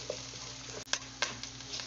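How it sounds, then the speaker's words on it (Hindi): Ginger and garlic frying with onion in a pan while browning, a quiet steady sizzle with a few sharp stir and clatter transients from a utensil. "हमारा अदरक लहसुन जो है वो ब्राउन हो चुका हुआ है"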